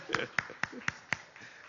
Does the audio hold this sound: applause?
yes